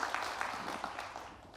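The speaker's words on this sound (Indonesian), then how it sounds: "Berikan tepuk tangan buat Tuhan." Church congregation gives a short burst of applause during a sermon, moderately faint clapping that fades toward the end.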